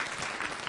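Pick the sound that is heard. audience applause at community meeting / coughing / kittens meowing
audience applause at community meeting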